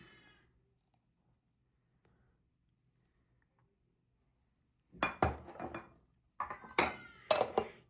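Porcelain cups and a sugar bowl clink and rattle as they are handled close by, in two short bursts of sharp ringing knocks after a long quiet stretch.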